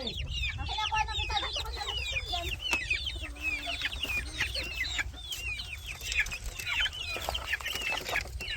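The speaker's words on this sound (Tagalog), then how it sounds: "Tayo po ay magpapakain ng ating mga alagang manok." Pet chickens being fed cluck continuously nearby, a busy overlapping chatter of short calls over a low background rumble.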